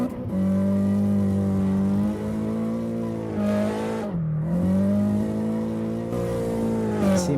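A street-comp race car at Road Atlanta accelerates hard through the gears, a loud close engine drone rising in pitch, dipping at each shift and climbing again over several seconds.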